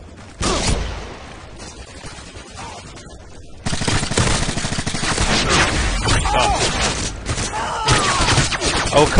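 Heavy gunfire in Modern Warfare 2 multiplayer Search and Destroy, a burst of shots, a quieter lull, then continuous loud automatic fire and impacts, with game sounds layered underneath.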